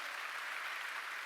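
Congregation applauding at a church service, a steady dense wash of clapping filling the whole short stretch with no gaps, fairly distant and even in level.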